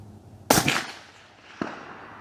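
A single sharp, loud crack from a .22-250 Remington rifle fired outdoors, followed by a fading rumble and a fainter distant report about a second later as the bullet strikes the target.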